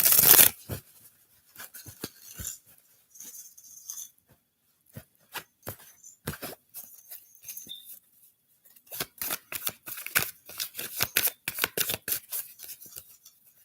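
Tarot cards are shuffled by hand in close, crisp flurries of papery riffles and slaps, starting and stopping in bursts with brief quiet gaps and no talking.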